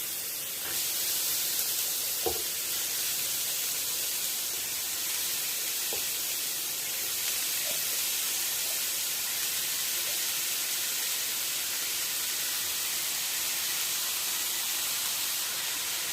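Beans and carrots sauté in a pan for kara kuzhambu, making a soft, steady hiss with a few faint clicks and taps from the pan.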